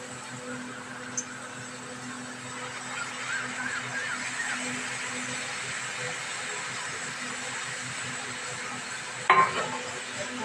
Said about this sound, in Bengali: ভাজা ভাজা করে নিই